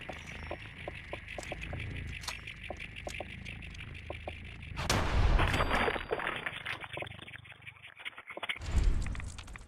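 Gunfire from Fallout 4 as bloodbug hatchlings are shot: a steady train of rapid, sharp reports, followed by a louder burst and a rough scuffle before a final heavy blast, all without talk.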